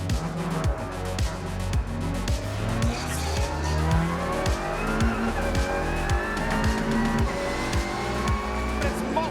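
Race cars, including an Audi, roar off the start at Phillip Island, engines loud and close with rapid gear-shift stutters, rising revs and tire noise, under a commentator's voice.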